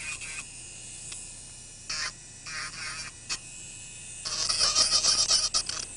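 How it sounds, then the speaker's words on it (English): Polishing of a plastic part for a Tanner dental appliance, heard as intermittent soft rasping and rubbing strokes in short bursts, with a denser, louder stretch of scraping toward the end; no talking. "I keep moving and always polishing it in the direction that the function is"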